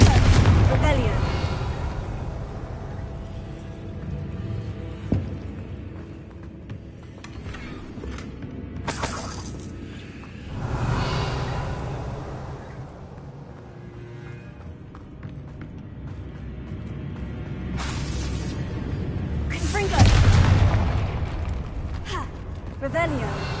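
Fiery Confringo spell blasts in the Hogwarts Legacy game, heavy rumbling booms that swell and fade in several waves amid running footsteps, mechanical clatter and ambient game sound, with a voice talking over parts.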